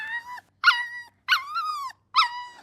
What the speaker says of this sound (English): he just yelped